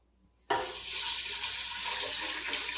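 Tap water pours into a Ninja Foodi cooker pot, starting abruptly after a brief quiet moment and then running as a steady, close rushing stream, with no one speaking.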